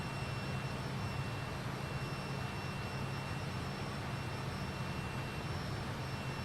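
Fokker F28 Fellowship jet airliner engines in Microsoft Flight Simulator, a steady, loud, unbroken jet drone with an even broadband roar throughout, without pauses or talk.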